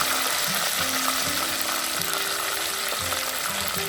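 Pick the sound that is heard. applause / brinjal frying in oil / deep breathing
brinjal frying in oil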